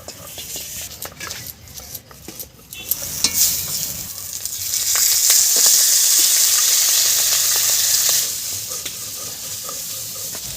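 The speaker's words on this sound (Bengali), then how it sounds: "লবণ দিয়ে ভালো করে ভেজে নিচ্ছি" Broad beans frying with salt in a pan, stirred with clattering scrapes at first, then a strong steady sizzle that swells and eases off toward the end.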